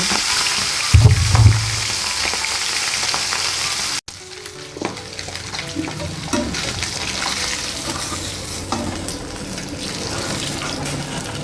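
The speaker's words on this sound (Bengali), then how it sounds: "আবারও কিছুটা মাছ দিয়ে দিলাম দিয়ে এভাবে সব মাছগুলো আমি একটা করে ভেজে নিলাম" Pieces of fish frying in oil in a home kitchen, a loud continuous crackling sizzle that runs nearly the whole time, with a brief clatter near the start and occasional stirring.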